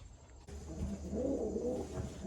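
Pigeons coo in a loft, a soft steady murmur of several birds running through the whole stretch, close by and moderately quiet, with a brief click partway in and no talking.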